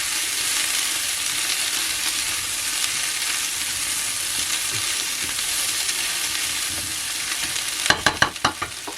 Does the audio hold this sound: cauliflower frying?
yes